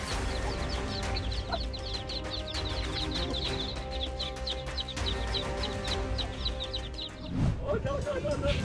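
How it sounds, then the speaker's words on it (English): A mother hen clucks near her chicks, a steady run of close, repeated clucks over a background of continuous noise, with narration running over it. "A mother hen grows especially alert when any threat comes near her chicks."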